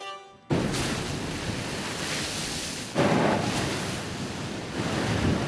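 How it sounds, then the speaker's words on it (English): Foamy Caribbean Sea waves break over cliffs on Antigua with a loud, continuous roar, surging in two or three stronger crashes amid wind noise and no voices. "The foamy waves of the Caribbean Sea break over magnificent cliffs on the neighboring island of Antigua."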